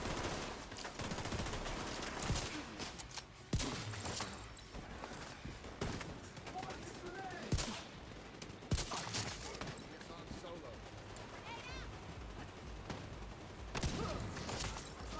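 Gunfire from The Division 2 video game, a rapid series of sharp shots and bursts scattered across the stretch amid dense game effects, with a voice talking over parts of it.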